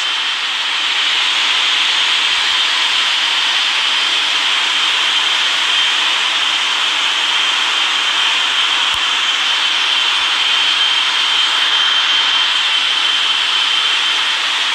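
Boeing 777-300ER in Real Flight Simulator rolling down the runway for takeoff, a loud steady jet engine roar with a high whine, constant and unbroken throughout with no talk.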